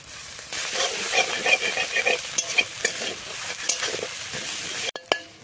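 Onions already fried reddish sizzle steadily in a pan as ginger paste and garlic paste are added and stirred in for a Bengali prawn-and-jackfruit dish, a continuous close frying hiss with scraping stirs, ending in a brief clatter.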